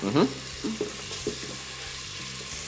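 Onions go into a hot pan of butter with bacon, bursting into a steady close sizzle with a few stirring scrapes and clicks, frying continuously throughout.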